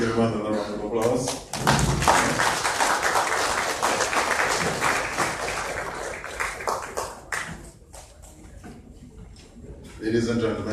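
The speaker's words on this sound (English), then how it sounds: "Please give him another round of applause." An audience at the opening ceremony of the 5th International Garifuna Conference bursts into sustained applause that swells for several seconds and then fades, with an announcer speaking before and after.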